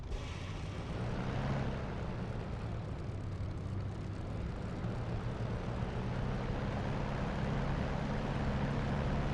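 A simulated aircraft engine in a flight simulator game throttles up with the brakes released, a steady, loud, broad propeller roar that swells slightly and holds for several seconds, with no talking over it.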